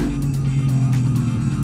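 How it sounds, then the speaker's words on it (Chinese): A BMW M3 on Bridgestone S007A tyres drives on a test road, giving a steady engine drone and road noise heard from inside the car. "我们现在开的是 M3 哦，配的是 S007A 的 Bridgestone 最新的轮胎哦"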